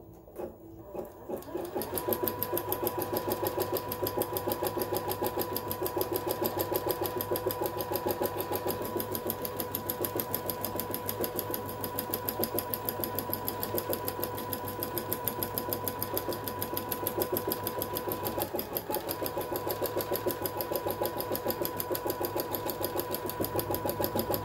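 An embroidery sewing machine stitches steadily after a brief start, its rapid needle rhythm and motor hum running evenly and continuously at a moderate, close-up level.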